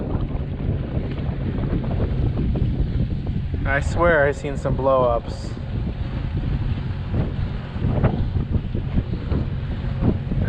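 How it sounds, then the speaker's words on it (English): Strong wind buffets a microphone on a fishing boat out on the water during fall, a continuous roaring rumble with gusts that swell and fade, while someone speaks briefly over it. "Since it's so windy"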